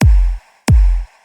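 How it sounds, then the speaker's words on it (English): Two punchy club kick drum hits with deep low-end thumps and short tails, dry with no effects, evenly spaced and loud. "then we have a club kick without effects. It sounds like this"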